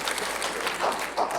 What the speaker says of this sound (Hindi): जोरदार ताली के साथ स्वागत कीजिए